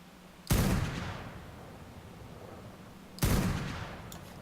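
Two loud gunshots blast about three seconds apart in a cave while dinosaurs are being shot in a video game, each crack trailing off into a long echoing decay, with no talking.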